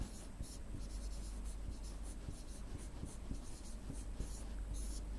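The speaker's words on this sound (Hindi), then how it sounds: "जहीर के पास जो पहले से धनराशि थी वो लिख देंगे।" Steady scratching and tapping of writing on a board during a Class 4 maths lesson on adding numbers, continuous and fairly close, with no talking over it.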